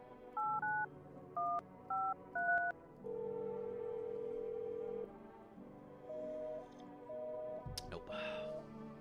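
Touch-tone keypad beeps from a video game's phone roulette: several short paired DTMF tones in quick succession, then a long steady tone and a few spaced beeps, with faint background game sounds.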